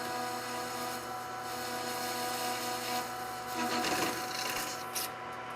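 A surface grinder's cutoff wheel grinds into a flange to cut it 1/4 inch thick, producing a steady close hum with a raspy, rubbing scrape that swells briefly near the end, without any talk.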